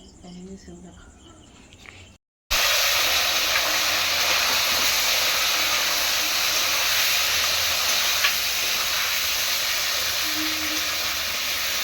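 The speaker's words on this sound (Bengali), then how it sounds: "মাংসটা কষা হচ্ছে, মাংসটা তেলে ফেলে ভেজে নিয়েছি" Meat frying in oil in a pan, a loud, continuous sizzling hiss that starts abruptly after a brief cut and holds steady to the end, with some talk near the start.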